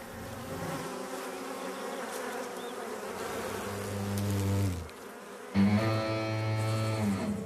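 Bees and hornets buzz loudly at a hive under attack, a dense steady drone that swells, drops briefly, then returns with a sharper, higher whine.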